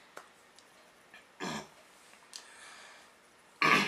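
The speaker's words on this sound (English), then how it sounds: "I gotta clear my throat now." Close, quiet breathing and small mouth sounds, then two short harsh bursts of someone clearing their throat, the last one louder.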